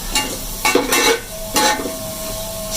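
Browned onions fry in a pan as masala is stirred in, for rice with peas. A steady sizzle sits under several short bursts of spoon scraping and stirring against the pan, close and fairly loud.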